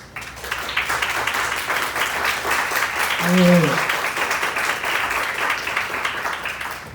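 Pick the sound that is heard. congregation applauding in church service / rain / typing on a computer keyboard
congregation applauding in church service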